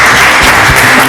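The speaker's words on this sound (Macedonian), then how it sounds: "Аплауз." Studio audience applause on a televised cooking reality competition, a dense steady wash of clapping filling the whole moment, loud and close.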